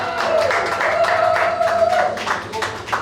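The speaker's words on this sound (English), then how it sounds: "Big applause for the guys, come on." An audience at a glassblowing demonstration in Cabo San Lucas bursts into applause for the glassblowers, sustained clapping from a nearby crowd with raised voices cheering over it.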